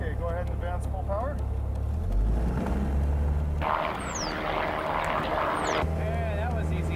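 A light aircraft engine is pushed to full takeoff power, a steady loud drone rising over a few seconds beneath cockpit conversation.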